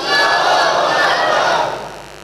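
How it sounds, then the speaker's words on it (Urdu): A congregation at a Muharram majlis in Jalalpur Bhattian answers a religious slogan with one loud, unified shout. The roar holds for over a second and then fades away. "سارے صاحبان مل کے نعرے دا جواب دیو"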